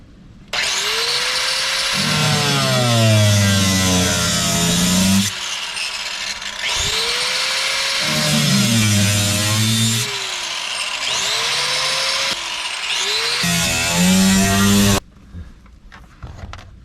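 A power tool cuts a channel out of a Jeep Cherokee unibody near the subframe, rising in pitch and sounding in three loud, close bursts of a few seconds each, separated by short pauses.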